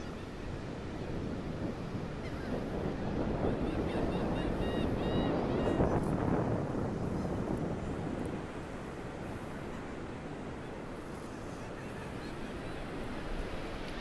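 Surf rolls in at an ocean shore at dawn after a lightning storm, a broad wash that swells midway and then recedes, with light wind buffeting the microphone and faint voices.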